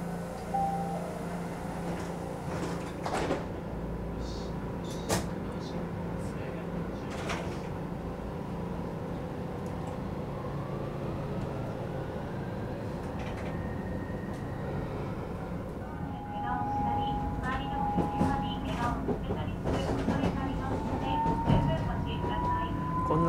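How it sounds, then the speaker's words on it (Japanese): A slow train departs, rolling along steadily with a low rumble and rattling, brief clanks, and faint talk in the background; a whining tone rises near the end. "こんなスローな電車も今じゃ都内だとね、珍しいかもしれない。"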